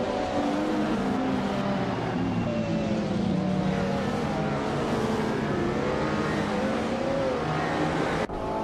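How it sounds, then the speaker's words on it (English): A 1989 Ferrari F40 LM race car's engine drones steadily and loudly in a racing video game, holding a sustained revving tone with slight pitch shifts throughout, no talk over it. "Aminsan is starting on pole, driving a classic 1989 Ferrari F40 LM from the 1990s supercar class"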